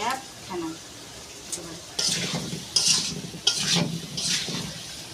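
Chunks of elephant foot yam stir-fried in a pan for a village-style fish curry, with several bursts of sizzling and scraping from the spatula over a soft, steady frying hiss.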